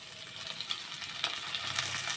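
Tomato and soaked lentils frying in a pan, a brief, faint, steady sizzle with soft hiss close by, with no voices.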